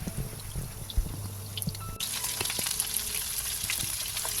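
Lahijan-style cutlets frying in a pan, a quieter start that jumps into a loud, crackling sizzle midway and stays constant, heard close with no speech.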